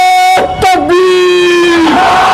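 At an MIM political rally in Bhusawal, a loud amplified voice and a crowd bellow a religious-political slogan, one long sustained shouted call breaking off abruptly.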